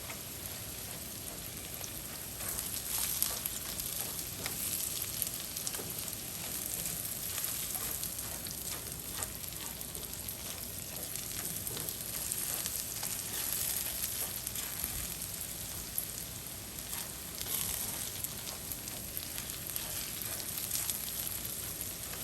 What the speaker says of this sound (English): I am going to add in my chili peppers.